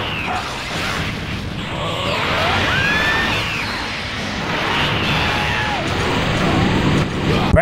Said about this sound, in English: Bam! Angry explosion.